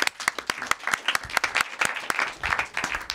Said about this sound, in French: Sofiane, le pâtissier, que nous applaudissons.